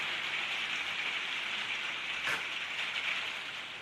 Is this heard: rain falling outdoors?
yes